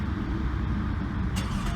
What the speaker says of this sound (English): So you can get a little clip of what the exhaust sounds like.